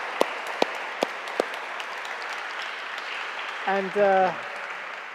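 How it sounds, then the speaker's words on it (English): Audience at an author talk applauding in a steady, moderately distant patter, with a few sharper claps early on and a voice briefly speaking over it near the end. "I think we should give you a round of applause"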